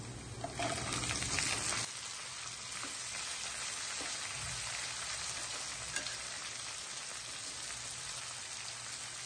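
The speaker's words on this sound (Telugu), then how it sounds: "ఆ శనగలన్నీ తాలింపులో వేసేసుకోవాలి" Chickpeas frying in a hot tempering with a dense, continuous sizzle and crackle, loud and close, holding steady throughout with a brief stir at the start.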